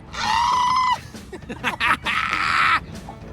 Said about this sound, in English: give me your primal scream.